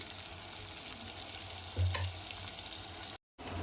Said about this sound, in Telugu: అవి ఆయిల్లో ఫ్రై కావాలండి మంచిగా కొంచెం టైం పడుతుందండి